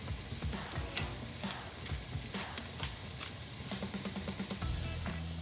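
Tomato paste cooking in a pot for peanut stew, a steady soft sizzle with faint scraping stirs throughout, quiet and close, no talking.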